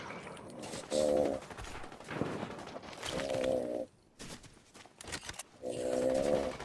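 SMG fire in Fortnite, with several dense bursts of rapid shots separated by short pauses, loud and close, plus scattered sharper impacts between the bursts.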